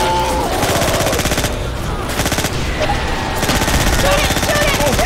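Rapid automatic gunfire from a zombie shooter game, Left 4 Dead 2 on the Death Mountain map, rattling loud and near in sustained bursts throughout, with players shouting over it.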